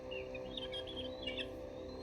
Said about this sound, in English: Do you hear our brother Hawk calling